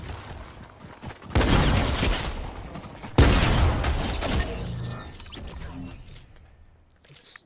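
Automatic sniper rifle in a video game, fired in two loud bursts of rapid shots with sharp, crackling impacts, each burst trailing off into echoing debris before a quiet pause.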